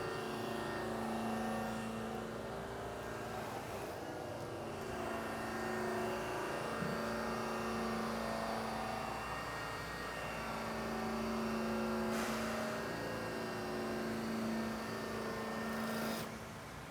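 A flannel buffing wheel spinning at about 2,200 RPM polishes aluminum, producing a steady whirring drone with a soft friction hiss that swells and fades slightly as the piece is worked.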